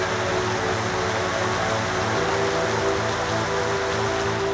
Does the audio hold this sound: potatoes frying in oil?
no